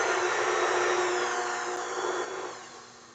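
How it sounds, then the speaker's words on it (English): A stand mixer whirs steadily on its low setting as it blends salt and flour for pizza dough, a continuous motor drone that fades slightly toward the end. "And then we're going to mix everything on low setting on 2."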